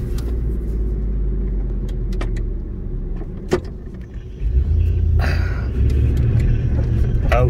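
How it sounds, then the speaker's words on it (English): A 1998 Ford F-150 regular cab short bed 4x4 with a lift, driving in low range, gives a steady, loud, deep engine rumble heard from inside the cab, with a few light clicks and rattles. "Man, this thing runs and drives good."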